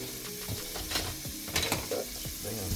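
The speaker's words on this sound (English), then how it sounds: "you're going to melt your butter up real quick" Butter melting and sizzling in a pan while cooking cheesy chicken spaghetti, a quiet, crackling fry with scattered clicks and clatters of a utensil.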